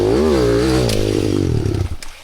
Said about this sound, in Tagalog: Bisag unsaon nimo lubag mo slide ra gyud ang imuhang motor